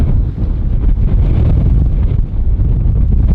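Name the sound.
strong wind on Hallasan summit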